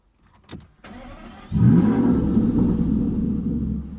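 A starter whirs briefly, then the V12 engine of a 2017 Aston Martin Vanquish S catches and settles into a loud, deep, steady idle rumble.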